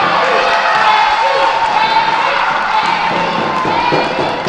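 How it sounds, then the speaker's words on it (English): A crowd at a pow wow cheers and whoops for group dancers, loud and sustained, with shouts and a sustained tone running through the noisy cheering. "let's cheer on your favorite group dancer here. Let's give them a round of applause for coming on out"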